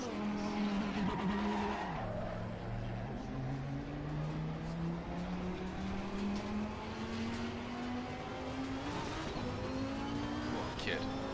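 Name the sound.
race car tyres skidding at Snetterton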